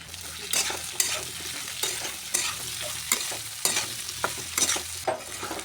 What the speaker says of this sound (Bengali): আলুটা আগে ভাজা হোক। আলু ভাজার মধ্যে দিয়ে দেব পেঁয়াজ কুচি।